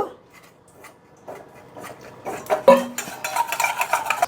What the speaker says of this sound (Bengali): একটু ময়দা নিয়ে নিলাম গুলে নেব